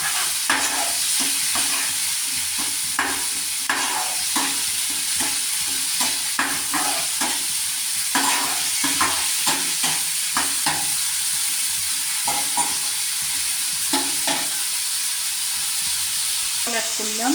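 Turmeric and Kashmiri chili powder being stir-fried in a pan for a lentil, egg and tomato dish: a constant hiss of sizzling oil under repeated scraping spatula strokes, irregular but continuous, close and fairly loud throughout.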